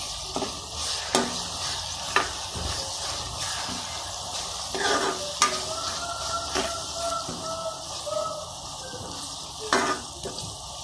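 Onions frying in oil in a pan for an Andhra prawn and raw mango curry, a continuous soft sizzle with intermittent scraping stirs and spatula taps against the pan, close and alone.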